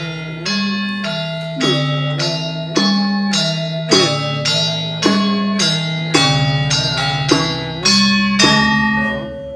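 Balinese gamelan ensemble plays Tabuh Telu, bright metallophone and gong strikes ringing in a steady, repeating rhythm, loud and close with long shimmering decays and a low gong pulse, no voices.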